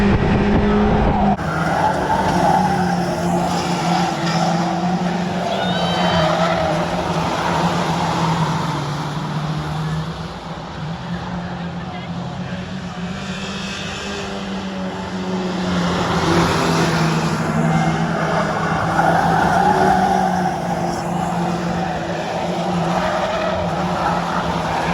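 Stock cars racing on an oval track at Cowdenbeath Racewall, engines roaring continuously as the pack circulates closely, with tyre scrub and rising and falling engine note as cars pass, loud and sustained without talk.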